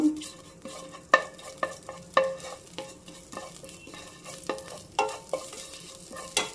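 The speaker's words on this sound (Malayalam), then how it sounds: "എണ്ണ ചൂടായിട്ടുണ്ട്. ഇതിലേക്ക് നമ്മൾ എടുത്തു വച്ചിരിക്കുന്ന പെരിഞ്ജീരകം, വലിയ ജീരകം, അതിട്ട് കൊടുത്തു. ഒന്നിളക്കി കൊടുത്തു." Fennel seeds and cumin seeds frying in hot oil in a pan, with a steady crackling sizzle broken by sharp metal spoon scrapes and taps as they are stirred, close up and with no voices.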